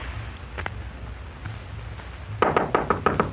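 Two sets of sharp knocks on a door, a quick double rap followed by a louder run of several raps, close by against a quiet room.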